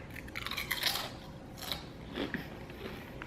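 Junk food chips crunched and chewed close to the mic, with repeated crisp bites and munching at an irregular rhythm, fairly quiet and with no talking.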